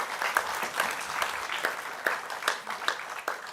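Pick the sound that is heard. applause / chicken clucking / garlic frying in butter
applause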